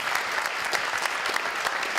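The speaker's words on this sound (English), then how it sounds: "Let's give a big round of applause for Amy and KeyBank one more time." An audience at a college elevator pitch competition gives a round of applause, dense and continuous clapping throughout.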